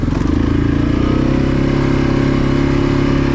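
A 2020 Yamaha Grizzly 700 ATV engine drones loud and close while the machine is ridden, holding a steady, throbbing hum with a slight rhythmic pulse throughout.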